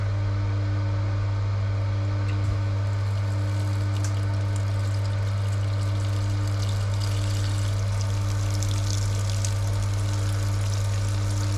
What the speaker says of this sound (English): basically it's just recirculating the wort through the grain bed